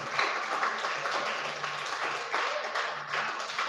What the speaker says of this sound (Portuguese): Você ama Jesus? Aplaude amando a Jesus.